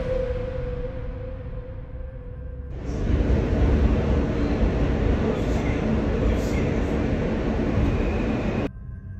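New York subway train rumbles along, a broad roaring wash of wheel and track noise that surges in suddenly partway through, holds loud and close, then drops away abruptly near the end.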